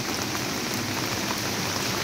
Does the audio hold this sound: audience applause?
no